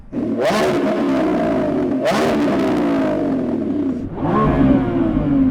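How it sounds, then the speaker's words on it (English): A powerful Lamborghini Revuelto engine revs hard three times, each blip rising sharply to a roaring peak before falling away, loud and close. "So I'm going to rev up this Lambo."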